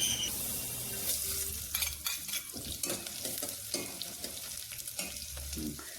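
Onion and garlic fry in a pan of tempering for horse gram usal, a steady close sizzle broken by repeated scraping stirs of a spoon.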